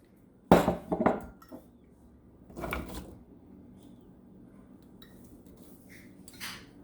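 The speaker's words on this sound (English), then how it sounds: "let's go ahead and put all that into your pot" Japanese knotweed pieces and fruit tipped into a cooking pot, giving a couple of sharp clattering knocks near the start, then a softer rustle and bump a bit later, close by in a quiet kitchen.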